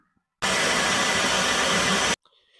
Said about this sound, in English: This thing very loud. Like, if you print something and you sleep in the same room as it,